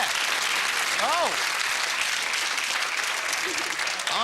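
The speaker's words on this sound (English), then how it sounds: "Round of applause there." A studio audience at a 1990s TV quiz show claps steadily and loudly throughout, with a host's voice briefly audible over the applause.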